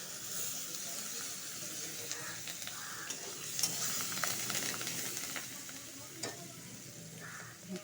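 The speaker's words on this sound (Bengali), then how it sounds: "পেস্টটা ভালো করে ভেজে দিব আর একটু ভেজে নিব সাথে কয়েকটা কালি পাতা দিয়ে দিব" Spice paste sizzles in hot oil with curry leaves while being stirred, a soft, steady frying hiss punctuated by occasional scraping and spatter, with no one talking.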